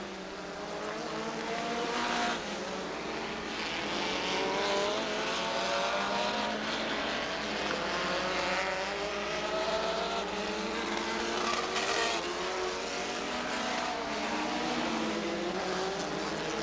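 A race car engine roars continuously at Rockford Speedway, its pitch rising and falling as it speeds down the straightaway, loud and sustained throughout.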